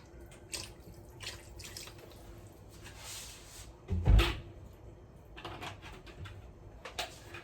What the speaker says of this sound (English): How much water should I put in?